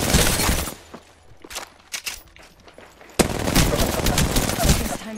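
Video game gunfire: a loud rapid burst of automatic fire opens, then scattered single shots and clatter, before another dense sustained burst erupts, close and harsh.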